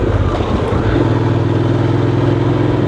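A Honda motorcycle ridden by a delivery rider around Seoul gives a steady engine drone with a low, even harmonic hum throughout, close and continuous.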